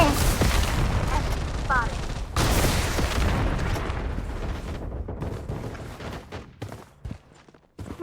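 Loud booming RPG blasts and gunfire from the mobile shooter game Blood Strike rumble through the first half, fading into scattered thuds and clicks.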